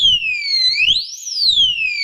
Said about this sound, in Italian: Quel beep beep beep avverte che sta per partire l'allarme